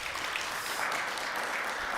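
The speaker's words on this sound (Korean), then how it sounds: "우리 같이 박수 한번." Church congregation applauding during a Sunday worship service, a dense, even wash of clapping from many hands that fills the room for a couple of seconds.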